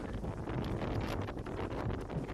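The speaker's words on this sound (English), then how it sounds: "Windy today, very blustery." Blustery wind buffets the microphone at an outdoor school football field, a steady, loud rushing roar with no voices.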